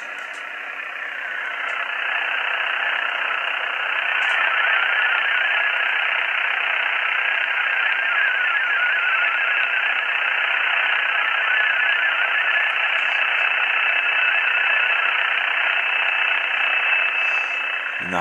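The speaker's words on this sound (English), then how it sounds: "And the high pitch one you hear is this PSK one coming in on the waterfall now." Hissing HF radio static with a steady digital-mode signal running through it, including PSK and Olivia tones and a thin high-pitched whistle that grows clearer toward the end, continuous and fairly loud.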